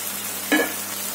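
Tomato puree for shahi paneer hits a hot pan and gives a short, close burst of sizzle, then fades back into quiet room tone.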